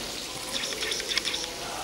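Water runs steadily down a decorative chute in a glass museum in Beloslav, the channel where molten glass once flowed. It makes a continuous close hiss with light splashing and dripping.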